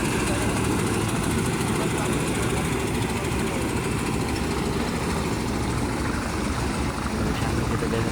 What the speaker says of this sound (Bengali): অনেকে যাচ্ছে এখান থেকে ট্রলার করে সবাই ঘুরে যাচ্ছে